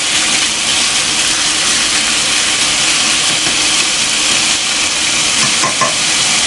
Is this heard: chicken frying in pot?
yes